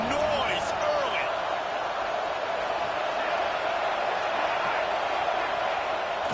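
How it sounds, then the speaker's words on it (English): A college football stadium crowd at Illinois vs Tennessee keeps up a dense, steady roar, loud and unbroken throughout, with faint shouts rising from the mass of noise. "This crowd bringing the energy and noise early."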